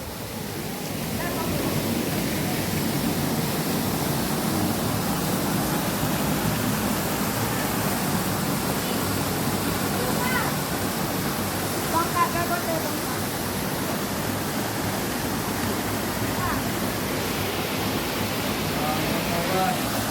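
Hasaan Falls waterfall in Bulacan, a steady, broad roar of falling water heard from nearby, continuous and even throughout with only slight fluctuations.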